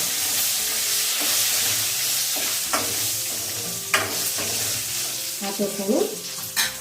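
Green chillies fry in hot oil in a pan while chutney is made, giving a loud, constant sizzle with occasional scrapes and clanks as they are stirred, close by and without speech.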